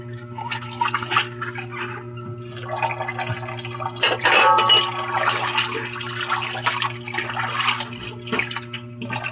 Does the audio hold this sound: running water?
yes